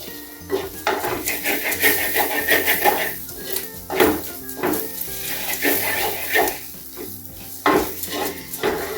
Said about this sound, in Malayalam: നല്ലതായിട്ട് ഇളക്കി വെക്കണം.